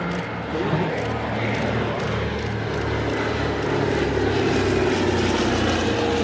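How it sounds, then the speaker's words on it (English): Douglas C-47 Skytrain piston propeller engines at an airfield airshow, a loud, steady droning roar that holds throughout and swells slightly toward the end, with a voice faintly underneath. "Now to your left, see the Douglas C-47."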